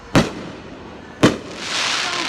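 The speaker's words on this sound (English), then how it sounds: "the firework popping" Fireworks burst with two sharp, loud pops about a second apart outdoors at night, followed by a lingering crackling hiss from the shells.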